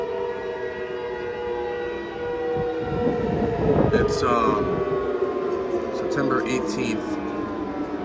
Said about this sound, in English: there's some significance as to why there's a siren going off.